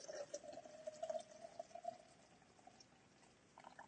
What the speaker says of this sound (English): let me pour it into this jar for you so you can see it